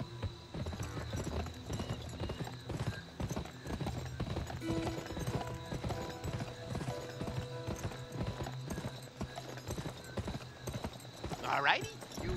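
Rhythmic clip-clop of horse hooves from the video game GUN, steady and fairly close throughout, layered under game music with a voice talking and a brief whinny near the end.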